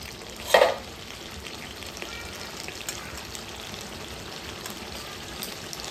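Chicken scraps cook in a pan without oil after water is added, making a continuous wet sizzle with one louder scrape of stirring near the start, heard up close.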